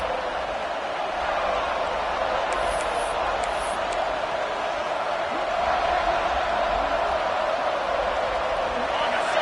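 A dense, loud roar from a stadium crowd fills a college football game between South Carolina and FSU, sustained without a break and with faint whistle-like peaks rising briefly within it.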